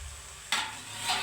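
Potatoes frying in a covered pan hiss quietly until the lid is lifted, releasing a sudden bright burst of sizzling that keeps crackling loudly, with a soft clink of the lid.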